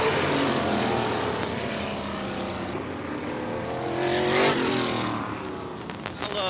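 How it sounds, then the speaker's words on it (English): Sprint cars racing on a dirt oval, their engines a steady continuous roar that swells and fades as the pack passes, with a wide broadband rumble and a brief rising whine near the end. "I love the sprint car racing action."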